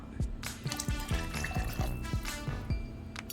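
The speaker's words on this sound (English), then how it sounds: "1 cup of beef broth." A cup of beef broth poured into a crock pot of blended chili mixture and water, giving a steady liquid pour with soft splashing and dripping, close up, with no talking.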